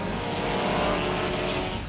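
Race cars roaring off at the green flag of a mid-season championship feature with a four-cylinder class, a dense, loud, sustained engine roar that fills the whole moment with no voices.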